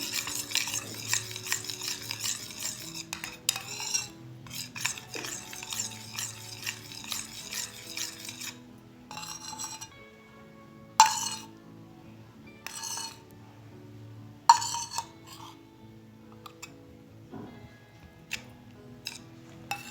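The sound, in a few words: stirring homemade cracked-heel remedy ingredients in a bowl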